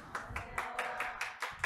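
Faint, brisk clapping from an audience at a Korean lecture on past exam passages, about eight evenly spaced claps in quick succession with no talking over them.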